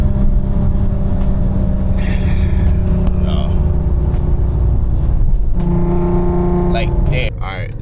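An Audi with about 100,000 miles revs at higher RPM, a steady loud engine drone with rising harmonic tones throughout, as heard from inside the car.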